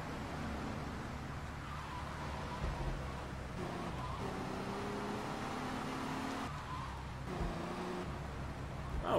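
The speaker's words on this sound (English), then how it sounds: "This car sounds like it's having a very hard time." A struggling car engine in the video game Grand Theft Auto 3 drones low and strained at a steady pitch, with faint wavering tones over a constant rumble and no speech.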